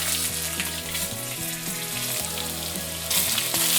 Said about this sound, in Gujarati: 1 ચમચી રાઈ નાખીને રાઈને ચટકવા દેવાનું છે